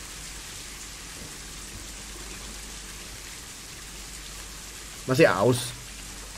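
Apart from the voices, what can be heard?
rain falling in the video game Planet Zoo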